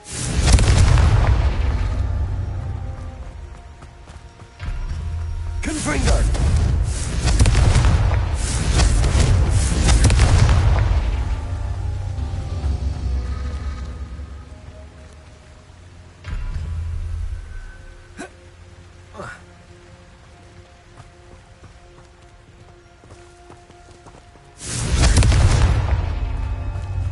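Confringo blasting spells explode in Hogwarts Legacy gameplay, with loud, deep booms and rumbling blasts that come in several heavy bursts, each followed by a quieter stretch of lingering game sound.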